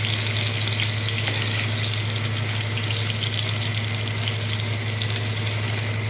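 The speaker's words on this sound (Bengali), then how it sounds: "কপিটা ভাজা হয়ে গেছে," Cauliflower frying in hot oil for a Bengali fish curry, a dense, even sizzle that holds steady and close throughout with no talking.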